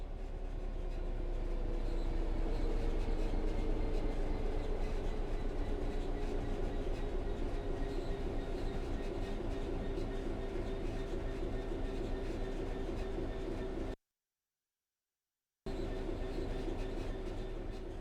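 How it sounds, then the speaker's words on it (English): A train coasting on level ground in Train Sim World 3 gives a steady, continuous rolling rumble with faint clickety-clack and a soft tonal whine, broken once by a short silent gap. "The train will then coast on level ground, and the train will only slow down very gradually"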